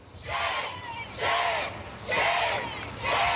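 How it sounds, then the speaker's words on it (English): A crowd of protesters on the East Plaza of the Capitol chanting a short word in unison, four rhythmic shouted repetitions at a steady pace, heard from a moderate distance. "you see a group of protesters that have gathered on the East Plaza of the Capitol"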